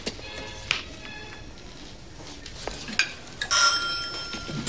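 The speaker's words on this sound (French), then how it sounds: "Facteur sonne toujours 2 fois." Doorbell announcing the postman at the door: bright ringing chimes sound a couple of times amid a quiet room, with a louder burst of ringing near the end.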